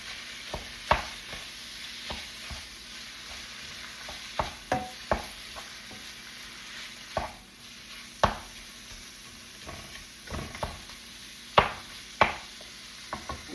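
Spiced beef stirred in a hot pan, a steady soft sizzle under repeated scraping knocks of the utensil against the pan, close and moderately loud, no voices.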